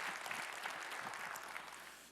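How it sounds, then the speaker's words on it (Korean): Applause during a Sunday church worship service, a room of congregants clapping steadily for about two seconds with an even, sustained texture before fading. "우리의 찬양을 받으실 주님께 영광의 박수 올리겠습니다"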